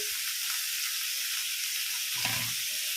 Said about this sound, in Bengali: এই যে সবজিগুলো তেলের মধ্যে দিচ্ছি না, খুন্তিটা মনে হয় জল ছিল, সেই জন্য এমন চটচড় করে উঠেছে।